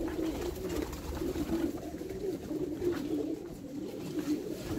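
Pigeons coo softly inside a loft, several low rolling calls repeating throughout at moderate distance, with faint rustling behind and no talking.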